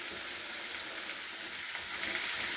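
Garlic stir-frying in a pan at a gentle heat for curry, a steady close hiss and sizzle with no voices.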